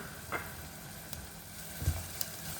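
Minced garlic dropped into a pan of shallots already frying for about a minute, a steady low sizzle with a soft stir and a small clatter partway through, close and fairly quiet with no talking.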